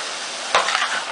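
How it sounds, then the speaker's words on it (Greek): Two kinds of rinsed rice stirred in a cooking pot, a single brief scraping swish with a rustle after it, rising from a faint steady hiss. "θα τα ρίξουμε στην κατσαρόλα μας και θα ανακατέψουμε πάρα πολύ καλά"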